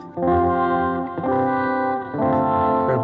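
Electric guitar played through distortion, sustained chords ringing out in three loud, overlapping phrases with no talking.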